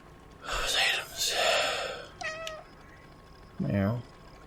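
Cat meows in the video game Stray, a few short mewing calls close and fairly soft, mixed with breathy sounds and game ambience.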